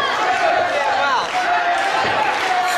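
A wrestling crowd roars steadily during a Last Man Standing match between Tyler Matthews and Steve Sterling Jr., cheering for Sterling. The dense, loud cheering runs throughout, with shouts and whistles rising from it.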